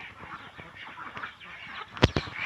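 Ducks being shut into their pen in the late afternoon let out scattered, soft quacks, then a sudden loud honk near the end, close by.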